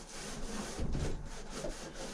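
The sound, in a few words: wiping down a chicken coop roost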